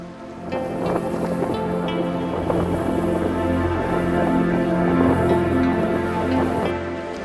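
Strong wind buffets the microphone outdoors where someone rides a wing on a mountainboard, a loud steady roar with rumbling gusts throughout and no talking.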